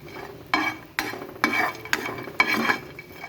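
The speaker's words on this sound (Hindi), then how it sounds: "इसी पैन में मैं ये थोड़े से जो नट्स हैं ना, ये मुख्तलिफ़ ड्राई फ्रूट्स हैं, इनको मैं थोड़ा सा सौटे करूँगी" Mixed nuts and dry fruits being sautéed and stirred in a pan while making doodh ki seviyan, with soft sizzling and a handful of distinct stirring scrapes spaced about every half second.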